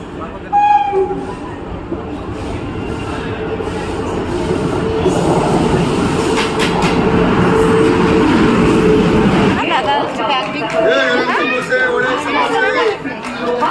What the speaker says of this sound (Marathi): ती बघ आली ट्रेन